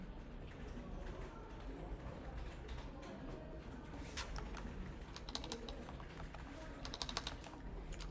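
Fingers type on a Mac computer keyboard, a quick, fairly faint stream of key clicks running throughout with a few louder taps near the end.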